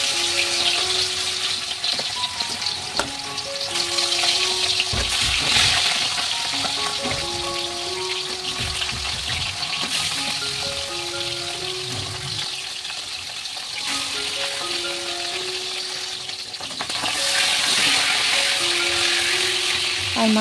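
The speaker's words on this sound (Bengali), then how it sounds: "আমি কড়াই ভালোভাবে তেল দিয়ে গরম করে নিচ্ছি, আর মাছটাকে ভাজা করে নেব।" Fish frying in hot oil in a wok, a steady crackling sizzle running throughout at moderate level, with tonal background music layered over it.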